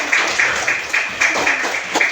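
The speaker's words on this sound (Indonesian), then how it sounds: "Kita berikan tepuk tangan dulu." Students in a classroom clap together in quick, fairly regular bursts, a short close round of applause from a small group.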